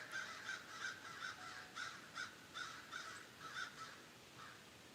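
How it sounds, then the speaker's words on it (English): Several crows caw repeatedly in short, evenly spaced bursts, the calls fairly clear against a soft outdoor background, with no voices present. "We have crows around here"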